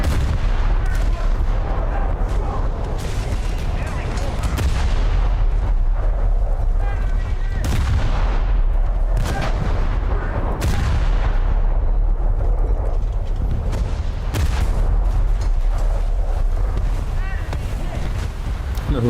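Rockets fired from a naval ship in a naval battle video game, a series of loud booming launches and blasts over constant engine and wind rumble, with a voice talking throughout.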